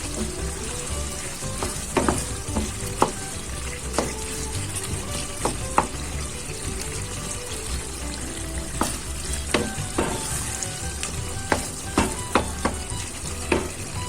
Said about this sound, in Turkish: İçli köftemin kıymalarını iyice kavuruyorum kızarana kadar kavurmak istiyorum.